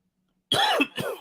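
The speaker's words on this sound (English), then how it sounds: "Coughing, trying to drink water so I don't cough" A short, close cough follows a moment of silence, a couple of harsh bursts with a throaty edge.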